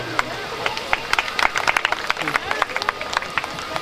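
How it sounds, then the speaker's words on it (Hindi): Listeners at a devotional discourse give scattered, uneven applause, individual claps popping out irregularly over a low background, with voices mixed in. "एक बार जोरदार तालियों से स्वागत तो करिए"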